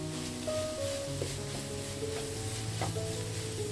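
Chicken masala with coriander leaves fries in a pan, giving a steady, moderately quiet sizzle with soft stirring throughout and no talking.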